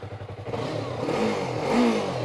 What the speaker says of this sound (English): Instant start, nice little burble. This is the stock exhaust.